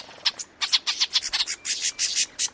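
Birdsong mimicking the alarm calls of a mobbing flock, a rapid run of harsh, scratchy chirps in quick irregular bursts, loud and close, with no talking.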